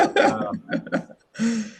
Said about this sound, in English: please don't mind me with the cough